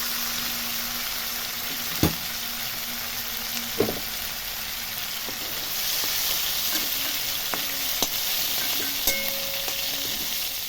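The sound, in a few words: prawns frying and being stirred in a wok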